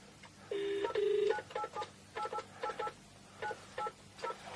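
A few phone keypad beeps followed by a quick run of short touch-tone dialing blips, clear and close, with no voices.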